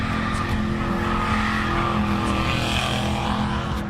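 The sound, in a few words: car rapidly accelerating on dark street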